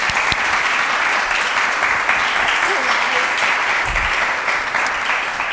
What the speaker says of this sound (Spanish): lo que tanto Rubén como José Antonio, Cristina y Verónica se merecen y necesitan ahora es un fuerte aplauso